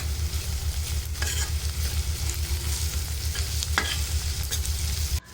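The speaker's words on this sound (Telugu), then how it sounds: "ఉల్లిపాయలు త్వరగా ఫ్రై అయిపోవటం కోసం 1 స్పూన్ సాల్ట్ కూడా వేసుకొని ఉల్లిపాయలు ఫ్రై చేసుకోవాలి" Sliced onions with a spoonful of salt sizzle steadily in a pan, loud and close, with occasional scraping stirs over the continuous frying hiss.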